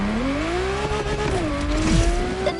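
A car drifting high among wind turbines in The Crew Motorfest: a loud, continuous engine tone rising and falling with a sliding tire squeal, close and alone.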